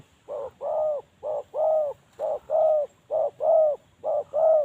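Spotted dove cooing close by in a Thai forest setting, a steady rhythmic series of soft paired coos, each short note followed by a longer rolling one, repeating about five times with brief gaps and no voices.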